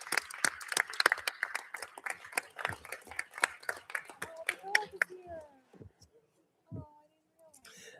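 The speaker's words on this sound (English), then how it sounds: "So could we give them a round of applause too for their leadership?" Audience applause at a school board of education meeting, a sparse crowd clapping in quick uneven bursts that thin out and fade after about five seconds, followed by a few scattered claps and some faint talk.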